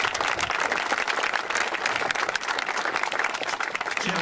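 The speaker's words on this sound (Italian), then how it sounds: "a lui io penso vada un applauso e vi chiedo di farglielo adesso" A dense burst of audience applause at the inauguration of a motorway toll booth in Borghetto Santo Spirito, steady and loud throughout with no talk over it.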